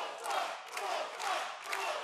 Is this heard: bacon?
no